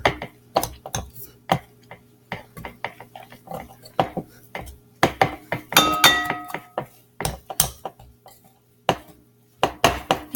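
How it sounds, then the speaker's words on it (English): Almond flour and cheese being mixed in a bowl for keto bagels, heard as repeated scraping and clinking knocks of a utensil against the bowl in an uneven rhythm, close and fairly loud, with a steady low hum underneath. "And you want all the almond flour to be all mixed with your cheese"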